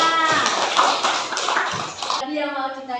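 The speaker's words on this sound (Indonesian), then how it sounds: "Berikan tepuk tangan untuk kelompok" A classroom group is applauded by the class: a dense burst of clapping from many students over about two seconds, loud and close, then fading into a lingering voice.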